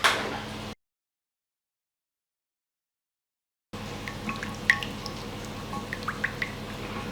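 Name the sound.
hot water running over lasagne sheets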